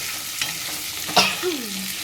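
Potatoes frying in a pan with a soft steady sizzle, a few scraping stirs of a spoon against the pan, and a brief squeak.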